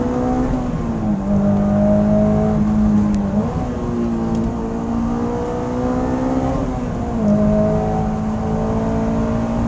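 A Honda S2000 AP2 engine pulls hard while driving on a cold day, its loud, steady drone climbing in pitch through two rising runs with a short shift dip between them.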